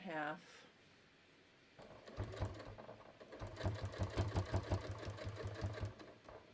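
A sewing machine stitches a garment waistband at a 3.5 stitch length, starting after a short vocal sound and then running in a fast, steady rhythmic chatter with a brief pause before resuming, close and clear.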